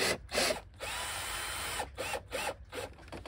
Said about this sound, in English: I'm putting screws on cardboard to cardboard, and put one through this center thing.